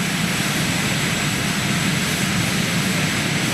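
A British Airways Boeing 747 jumbo jet in retro livery arrives at London Heathrow, its engines a constant, broad roar held at steady loudness throughout, with no talk over it.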